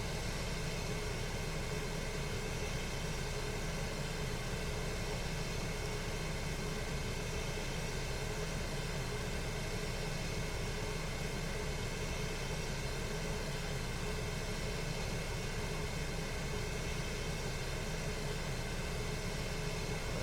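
Bypass jet engines of an airplane in climbing flight make a constant, even roar that holds without change throughout, with no voices.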